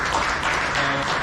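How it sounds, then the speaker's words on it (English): An audience at a neighborhood watch meeting giving a round of applause, a dense steady wash of many hands clapping at moderate volume. "Give Paul a round of applause"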